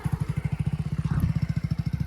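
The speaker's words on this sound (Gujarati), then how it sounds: "અમારું બાઈક ચાલુ થઈ ગયું છે" A motorcycle engine idles close by, a steady rapid chugging with an even, pulsing rhythm throughout.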